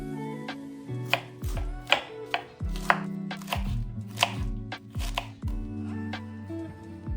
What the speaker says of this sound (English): we're gonna cut into this, we're gonna wash it, and then we're gonna slice it into very thin strips